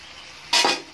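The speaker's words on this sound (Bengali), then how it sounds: "ভেজে রাখা চিংড়ি মাছটাও আমি দিয়ে দিচ্ছি।" Fried prawns drop into a pan of potato and pointed gourd with a sudden loud sizzling burst that fades back into a steady fry over about half a second.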